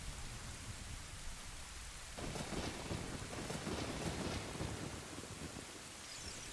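Steady thunderstorm rain in the Zelda Ocarina of Time video game: dense, continuous hiss of falling rain that swells slightly partway through, with a low rumble of thunder underneath and no talking.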